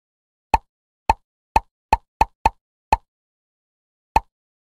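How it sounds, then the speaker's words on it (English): Bubbles popping as they are tapped in a kids' counting game: eight short, crisp plops, the first seven coming in a quick irregular run, then a pause before a final lone pop. "Tap on the bubbles."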